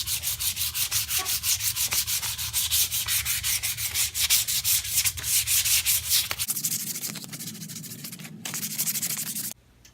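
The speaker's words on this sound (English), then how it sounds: "then we'll sand it down and put the second coat on" Painted cherry wood coffee table being sanded between coats, a loud, close, rapid back-and-forth scratchy rubbing that shifts to a lighter tone partway through, with no talk.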